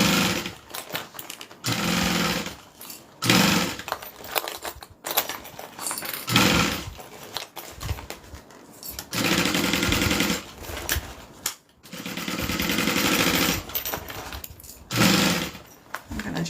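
A sewing machine runs in bursts as it bastes fabric, loud stitching runs of a few seconds each separated by short pauses, with a voice talking in places.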